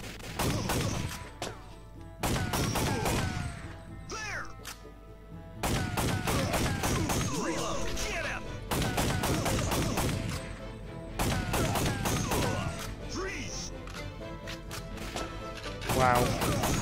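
Gunfire in the arcade-style shooting game Time Crisis, with repeated bursts of sharp shots and heavy impacts in clusters through the clip, loud and up front, along with game effects.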